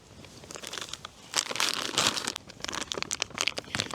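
Close crinkling and rustling of a plastic zip bag being squeezed and handled in uneven bursts.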